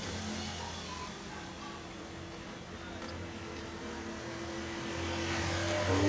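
Steady road traffic rumble with a car engine passing nearby, growing louder toward the end.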